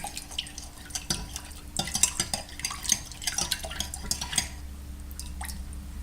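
Beef base is stirred into water in a pot, with a spoon clinking and scraping against the sides in quick, irregular taps over a soft watery swish and a faint steady hum.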